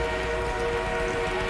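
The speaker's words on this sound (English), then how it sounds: "An enemy armored train is on route." Enemy armored train approaching in the video game Battlefield 1, a steady rolling rumble with a sustained whistle-like tone, moderately loud and continuous, no voices.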